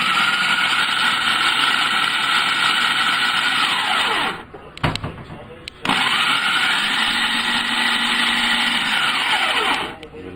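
A food processor blitzes cauliflower into rice: a loud, steady high-pitched whir runs for several seconds, stops briefly with some clatter, then restarts and runs again before winding down; close up, no talking.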